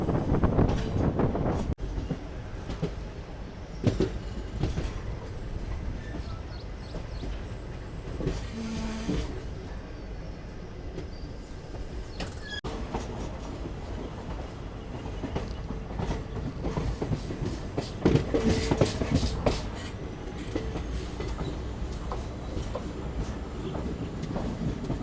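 A Tirupati Express train, running from Chamarajanagar to Tirupati, rolls along the rails with a steady, loud rumble and rhythmic wheel clatter that continues throughout, with a few sharper metallic knocks along the way.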